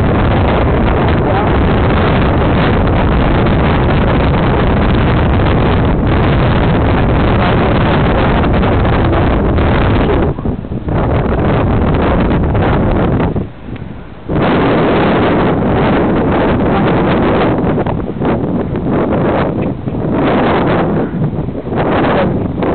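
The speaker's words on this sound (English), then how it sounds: "Now it's a windy day" Heavy wind buffeting a microphone on a hill by an old cemetery, a constant loud rumbling roar with brief lulls, almost drowning out a faint voice.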